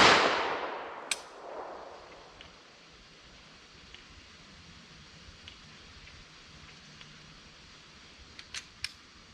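A single 10mm pistol gunshot cracks sharply at the start, then decays into a long outdoor echo tail, with faint small clicks and ticks afterward.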